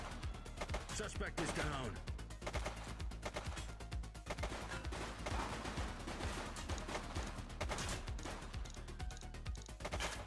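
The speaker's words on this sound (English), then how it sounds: "She's shooting!" Gunfire in the video game The Precinct, a rapid, sustained run of sharp shots and bursts layered over a dense game soundtrack, with a voice speaking briefly over the shooting.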